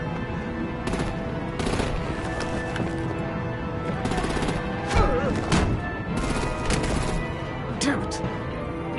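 Rapid game gunfire and artillery bursts in a Batman The Enemy Within battle, loud repeated shots and impacts over a steady rumble, with voices speaking between the volleys.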